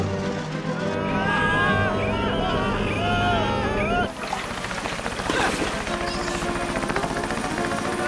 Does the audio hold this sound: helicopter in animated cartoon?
yes